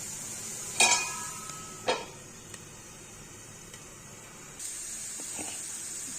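An egg and potato fry roasts in a pan and is stirred with a spoon, giving a couple of sharp scraping clinks followed by a soft, continuous sizzle and hiss at close range, with no talk.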